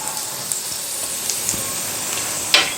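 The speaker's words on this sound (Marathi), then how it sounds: "थोडासा लसूण परतून घेऊया लसूण थोडासा परतला की यामध्ये आपण जिरं घालूयात" Garlic and cumin seeds sizzle in hot oil in a pan, making a steady, bright hiss with scattered small crackles and a slightly louder spit near the end.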